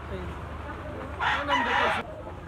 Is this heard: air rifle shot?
no